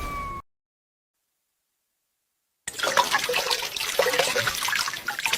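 Underwater ambience in a video game: a short tone, then a stretch of silence, then a steady, dense wash of bubbling, rushing water noise at moderate loudness with no voices.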